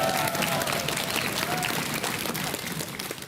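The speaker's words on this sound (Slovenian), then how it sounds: "Dajmo en aplavz za Miha." A studio audience claps for Miha in a dense, even burst of applause that holds steady and then tapers slightly toward the end, with a voice briefly heard early on.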